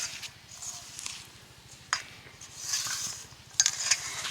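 A dry flour and powdered sugar mixture is stirred into crisp biscuit dough in a bowl. Soft, steady scraping and stirring continues close by, broken by a few sharper knocks of the utensil against the bowl.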